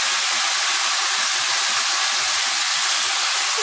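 Minced meat sizzles and hisses loudly in a hot pan, a constant bright crackle with frequent small pops and spatters.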